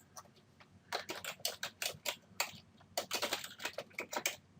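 Rapid bursts of keystrokes on a computer keyboard, close and clear, typing in quick runs separated by short pauses.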